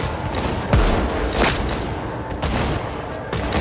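Rapid gunfire in a Cyberpunk 2077 shootout, loud dense bursts of shots with heavy booms running continuously through the moment, no voices.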